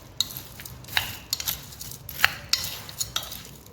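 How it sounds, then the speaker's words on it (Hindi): Nuts, almonds and cardamom for homemade shahi masala are stirred together, a spoon clinking and scraping against the dish in quick, irregular taps, close and fairly quiet. "ये मेवे, बादाम और इलायची, इन सब को अब मिक्स करेंगे"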